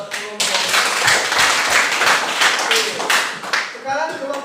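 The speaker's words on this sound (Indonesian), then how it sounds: "berikan aplaus buat kelompok" Applause for a presenting student group in a classroom, a burst of many hands clapping close and loud for several seconds, briefly under a voice at the start and fading near the end.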